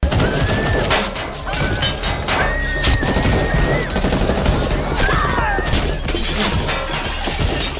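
Film attack scene with armed men: loud, continuous rapid gunfire mixed with crashing, shattering impacts and scattered high cries throughout.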